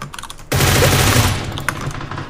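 Sniper gunfire in an online shooter game, a sharp loud crack followed by a broad roaring burst and echoing tail, with softer clicks and a later small report, no talk over it.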